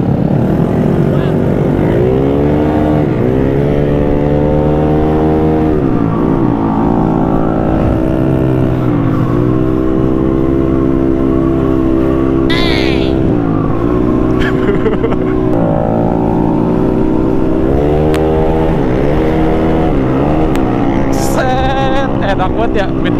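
A Honda Beat scooter engine revs hard and steadily, its tone repeatedly rising and falling through throttle blips, loud and close throughout with no talk over it.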